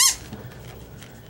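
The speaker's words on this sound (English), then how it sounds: "It's a squeaky doll with a plush tail." A single short, high squeak from a plush dog toy with a plush tail, sharp at the start, then quiet room noise.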